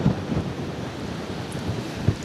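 Gusty wind at an outdoor fishing spot buffets the microphone in uneven low rumbling bursts, with a strong gust at the start and another near the end, and no one speaking.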